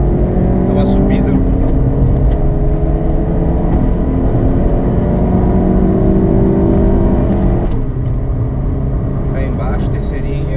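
A 1.0-litre car running nitro climbs a hill at full throttle, its engine droning loudly and steadily in a low gear, then pausing briefly near the end as it shifts into third and pulls on. Voices talk over it.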